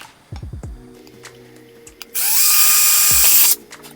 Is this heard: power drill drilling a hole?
yes